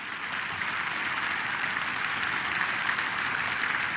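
Audience at a national cooperative conference in India applauding, a dense, steady wash of clapping from many hands at constant loudness throughout.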